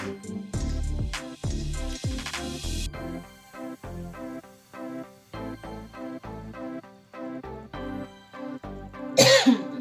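A series of coughs and throat-clearing bursts, some close together and some spaced apart, fairly close, with no talking.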